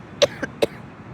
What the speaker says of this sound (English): Maybe I am coughing more.